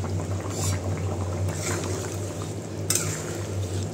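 A pot of meat curry bubbles on the stove with a low, steady simmer, joined by a couple of short scraping or clinking sounds.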